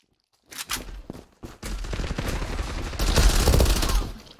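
Rapid gunfire in the online shooter Zula, with bursts of automatic shots starting after a short silence and building into a dense, loud volley near the end.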